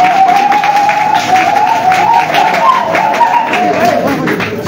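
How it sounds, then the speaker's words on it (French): Crowd applause at a political press conference, loud continuous clapping with a sustained tonal hum or voice running through it, close and full for the whole stretch. "qu'on peut applaudir, s'il vous plaît."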